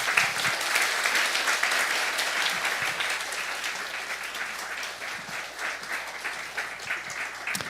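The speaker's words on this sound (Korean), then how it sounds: "우리 문성 선교사님 나오실 때 힘찬 박수로 우리 환영하겠습니다." A church congregation at a Friday service gives a long, steady round of applause to welcome a missionary to the front. The dense clapping is fairly distant and sustained throughout, with no talking.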